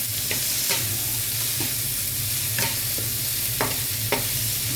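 Lechon kawali pieces sizzling steadily in a hot pan for pakbet, a continuous crackling fry punctuated by several sharp scraping stirs of a utensil against the pan, close and fairly loud with no talking.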